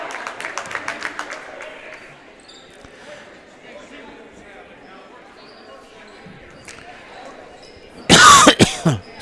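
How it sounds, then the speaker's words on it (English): A commentator with a month-long hacky cough lets out a burst of loud, close coughs at a girls high school basketball game, following a stretch of play-by-play talk over bouncing balls and a murmuring gym. "that darn hacky cough I've had for a month, I just can't shake it."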